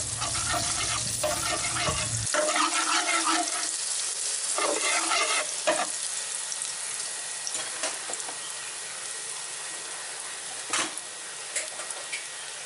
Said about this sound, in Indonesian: langsung masukkan saja ini bawang putih ditambah potongan cabai men